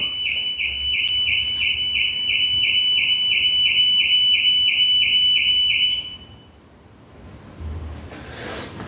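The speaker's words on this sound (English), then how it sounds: "it's a car directly opposite. So the bloody alarm's going off." A car alarm blares nearby on the street in a steady, rapid repeating electronic pattern for several seconds, then cuts off, leaving quiet street background.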